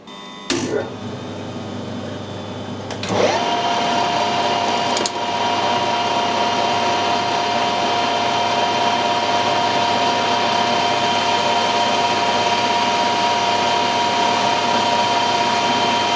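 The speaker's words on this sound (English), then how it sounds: "taking a very light cut with the carbide insert" A metal lathe takes a very light cut with a carbide insert, running as a loud, steady whine and hum that holds for the whole stretch after a few sharp clicks at the start.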